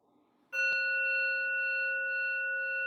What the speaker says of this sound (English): And then we will begin with the bells.